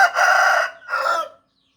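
A Thai fighting rooster crows up close, one long loud call followed by a shorter second call, then silence.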